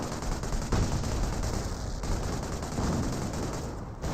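An artillery decoy barrage rages in the Company of Heroes video game: a dense, continuous roar of overlapping explosions and gunfire rumbles loudly for several seconds without a break.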